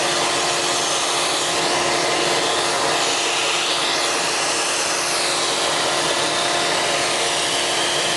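A vacuum sucking flies off the top of a Worm Inn Mega worm bin, a loud, steady, high-pitched whooshing roar that runs unbroken and close with no pauses.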